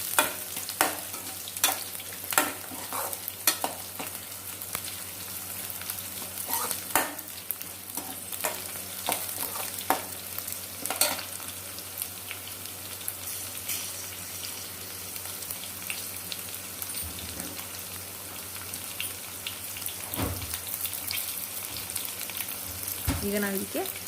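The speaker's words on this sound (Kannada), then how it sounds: "ಇದು ಕೂಡ ಎಣ್ಣೆಯಲ್ಲಿ ಚೆನ್ನಾಗಿ ಫ್ರೈ ಆಗಿದೆ" Ingredients fry in oil in a pan for a field bean (avarekalu) recipe, a continuous close sizzle with scattered sharp crackles and pops, fairly quiet overall with no talking.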